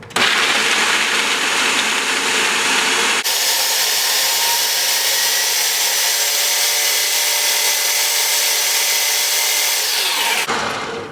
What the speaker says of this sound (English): We're going to give it a nice blitz until everything is well combined.